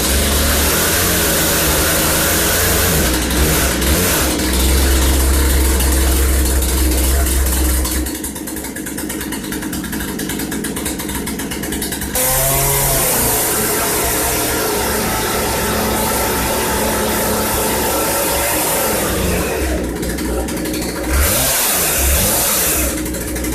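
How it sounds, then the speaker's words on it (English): A Poulan P3314 chainsaw started cold runs loud and close, its two-stroke engine revving hard, dropping back to a buzzing idle, then revving up again in bursts. "now I can start the saw cold by the procedure, which is 6 pumps, full choke, start, half choke, let it run about 15 or 20 seconds"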